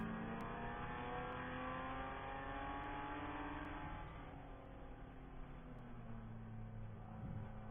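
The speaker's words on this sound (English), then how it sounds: "That is the 111 Volkswagen Rabbit of Placeholder Motorsport. So they too are coming down the pits." A Volkswagen Rabbit race car in an endurance race drives down the pits, its engine a steady, droning hum heard from on board, easing slightly midway and then holding.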